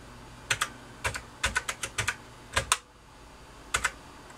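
Someone types a command on the keyboard of an Apple IIc computer: about a dozen sharp, close key clacks in uneven bursts with brief gaps, clear and alone.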